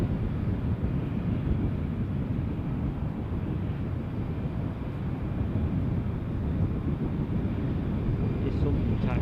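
An aircraft taxiing at Dusseldorf airport gives a steady, continuous broadband roar, moderately loud and unbroken throughout, with wind rumble mixed in.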